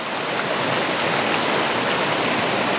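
Cold mountain stream water rushing downstream in April, a loud, steady broadband roar of flowing water close by with no pauses or voices.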